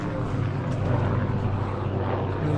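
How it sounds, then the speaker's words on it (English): Continuous low droning rumble of a helicopter flying overhead near a waterfall on Oahu, Hawaii, steady and moderately loud with no talking. "There's a chopper above somewhere flying."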